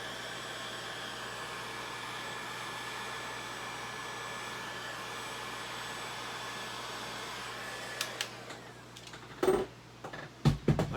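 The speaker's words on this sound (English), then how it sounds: "as you hit it with the heat gun, it shrinks that plastic" A heat gun shrinks plastic on fragile Halloween props, a steady airy roar running on and on, then a few clicks and knocks as it stops near the end.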